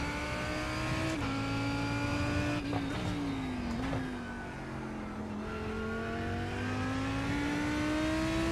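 GT3 race car in iRacing, engine note climbing and dropping as the throttle is feathered through corners, with gear-change dips and a steady loud whine near the microphone, no talk.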